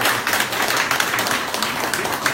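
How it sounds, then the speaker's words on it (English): Steady applause from an event audience at a university gathering, a dense wash of many hands clapping continuously throughout, fairly loud and unbroken. "So please give them a big round of applause."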